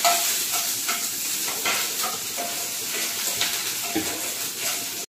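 Onion fries in a pan with cumin and neem leaves for stuffed okra, a dense continuous sizzle with light stirring scrapes, fairly close and loud, stopping abruptly at the end.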